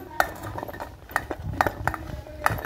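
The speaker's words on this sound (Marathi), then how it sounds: "आता मी मिक्सरच्या भांड्यामध्ये सर्व साहित्य टाकून घेणार आहे।" A few clinks and taps of fresh coconut, coriander, green chillies, garlic and half a lemon being dropped into a metal mixer jar for chutney, scattered and fairly close, with a quiet background.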